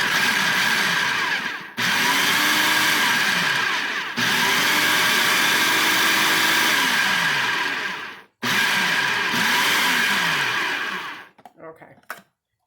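Food processor pulsing butter for a figgy pudding: loud whirring motor bursts cut by abrupt stops, three long pulses with sharp breaks, trailing into brief clatter at the end.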